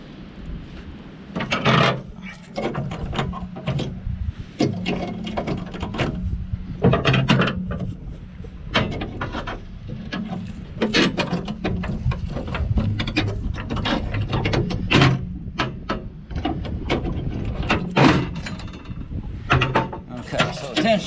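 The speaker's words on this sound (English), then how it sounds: "next I'm going to take the spring off of the tensioner" A spring being pried off the belt tensioner of a John Deere 1025R's King Kutter 72-inch finish mower, with steady metallic clicks, scrapes and ratcheting clatter, close by, continuing for about twenty seconds.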